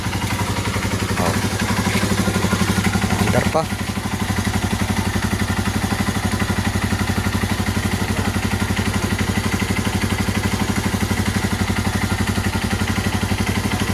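A motorcycle engine idles steadily nearby with a low, even, clattery throb throughout, and a brief change in the sound around a few seconds in; a few words of speech come over it.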